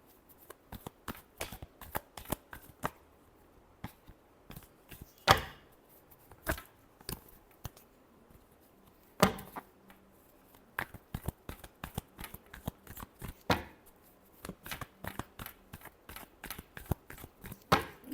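Tarot cards being shuffled by hand, a rapid series of crisp riffling snaps that comes in irregular bursts with short pauses between them, close and fairly quiet with no talking.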